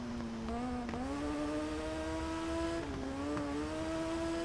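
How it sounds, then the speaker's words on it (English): A racing motorcycle in the TT Isle of Man game drops a couple of gears. Its engine note dips and climbs again in two distinct steps, then holds a steady high whine. "Back a couple of gears."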